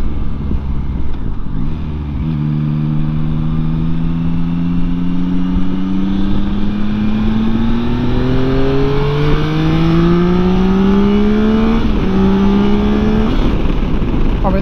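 Yamaha Tracer 9 motorcycle under way, its engine note climbing steadily through the gears with brief dips at shifts, loud and close over constant wind rush.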